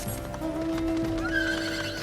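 A horse mount in the video game Final Fantasy XIV whinnies with a long neigh over light clip-clopping hooves, close and clear with no talk.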